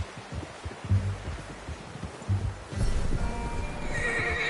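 A horse in the video game Red Dead Redemption 2 gives a loud, close whinny, and its hooves clop in a rhythmic walk beneath it. The calls and hoof thuds overlap over a low background ambience.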